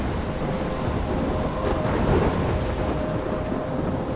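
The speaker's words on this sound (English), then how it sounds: "I'm trapped in a storm?" Thunderstorm in the video game Life is Strange: a steady wash of heavy rain with a low rolling rumble of thunder swelling near the middle, continuous and fairly loud, with no voices.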